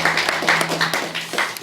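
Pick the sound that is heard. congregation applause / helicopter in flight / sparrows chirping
congregation applause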